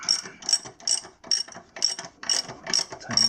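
A socket ratchet clicks in repeated short bursts, with pauses between, while snugging the axle nut on an Empulse TT motorcycle during a chain adjustment. The ratchet is close and loud, and nobody speaks.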